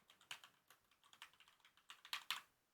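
Fingers type on a computer keyboard, a quick irregular run of crisp key clicks heard alone in a quiet room, the last few strokes landing louder.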